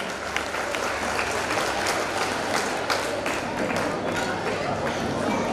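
Children clap together to welcome a speaker at a youth forum, a dense, continuous burst of applause from a crowd that holds steady for several seconds with faint chatter mixed in.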